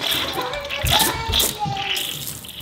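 Hot water streams from a kitchen faucet with a rushing, splashing hiss that swells and eases over a couple of seconds.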